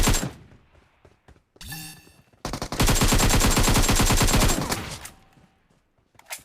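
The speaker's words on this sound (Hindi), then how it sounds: "इसको आखिरी गोली लगे जाती है और ये नॉक हो ही जाता है।" Automatic gunfire in the mobile battle royale game PUBG Mobile: a brief burst, then a sustained rapid volley of close, loud shots lasting about two seconds before fading, with no talk.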